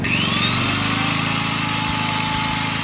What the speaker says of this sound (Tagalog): At maingay yung tunog ng grinder.